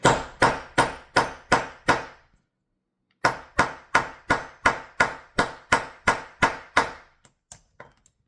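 Hammer punching a vintage 5 1/4 inch floppy drive on an anvil, sharp rhythmic metallic blows, six in a row, a pause, then about ten more, close and loud, ending with a few faint taps.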